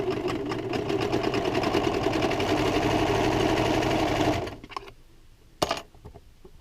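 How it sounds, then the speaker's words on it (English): A sewing machine runs in a fast, steady whirring stitch for about four seconds, then stops, followed by a single sharp knock. "Bring it back to the sewing machine."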